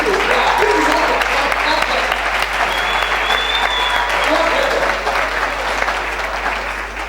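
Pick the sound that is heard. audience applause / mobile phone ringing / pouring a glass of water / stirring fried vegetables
audience applause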